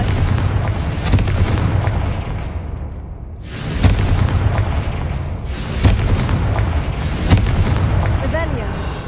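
Repeated loud fiery blasts from the Confringo spell in the Hogwarts Legacy video game, three or four heavy booming bursts spaced a couple of seconds apart over a steady rumbling game soundscape.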